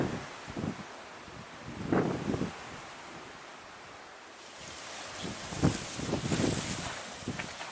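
Wind buffets the built-in microphone of a Sony HD camcorder running on automatic settings outdoors, with low rumbling gusts that swell and fade in several bursts over a steady breezy hiss.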